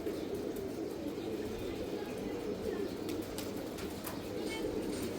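Soft, low cooing of male pigeons rises and falls steadily against a constant outdoor hum, with a few faint chirps overhead.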